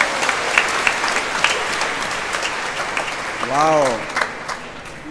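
Applause from children in a group lesson, moderately loud and ragged, with a voice exclaiming over it partway through.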